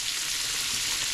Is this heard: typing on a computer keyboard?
no